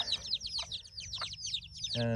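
Rapid chirping and clucking from chickens, fairly quiet, with a low steady hum underneath and a brief buzzy tone at the end.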